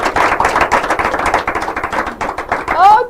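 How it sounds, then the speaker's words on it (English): An audience applauds at an inter-school quiz and debate competition, a steady burst of many hands clapping for about three seconds before a voice cuts in at the end. "help me clap now"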